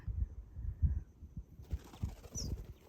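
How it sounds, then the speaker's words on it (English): Pigeons or doves gathering at a rural home in Hargeisa, Somaliland, give soft, low wing flaps and faint coos close by. The sounds come in irregular bursts over a quiet background. "These birds just wait for us to come every afternoon."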